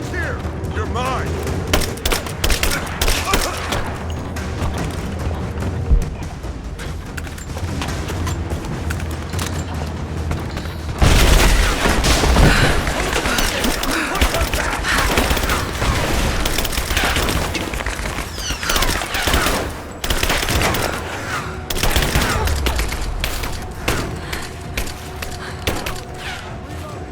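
Gunfire in the video game Rise of the Tomb Raider, a dense, continuous rattle of shots and booming impacts that swells midway and keeps going, with shouted voices mixed in.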